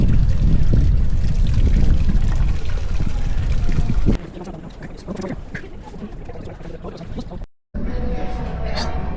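Water pouring from a fountain in a plaza in Cordoba, Spain, a loud rushing splash up close that drops to a softer trickle with brief quiet, voices murmuring faintly underneath.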